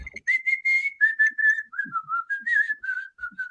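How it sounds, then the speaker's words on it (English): A person whistles a wavering, stepped melody without using the lips, clear and close with short breaks between notes and no talking. "I can whistle without like my lips."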